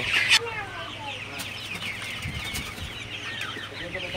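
Forty-six-day-old Sonali super hybrid chickens in an indoor shed cluck and chirp continuously at moderate distance, with a sharp squawk near the start and a low hum underneath.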